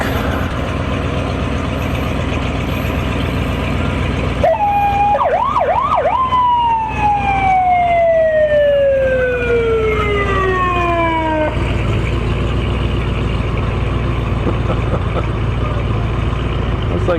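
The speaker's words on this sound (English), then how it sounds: "Another Morrisonville vehicle, this is the ambulance." An ambulance siren wails nearby during a street parade, rising and falling with a steady descending tone, over a constant rumble of outdoor crowd noise.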